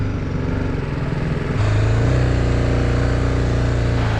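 A BMW G310 GS motorcycle with a BS6-compliant engine runs steadily nearby, its low, even engine note rising and thickening partway through as the revs pick up, with no talk over it.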